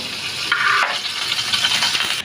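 Butter and oil sizzle in a pan being heated for marinated beef, a steady close hiss with a brighter burst of frying partway through and light stirring noises, no talking.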